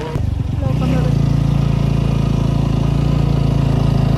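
A motorcycle engine starts up and settles into a loud, steady idle, thrumming close by throughout, near a cable car station parking area.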